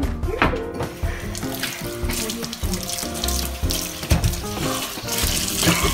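Tap water runs into a kitchen sink during washing up, a continuous splashing wash with clattering knocks and shifting bursts throughout, with no talking.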